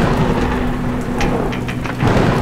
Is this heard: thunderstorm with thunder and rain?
yes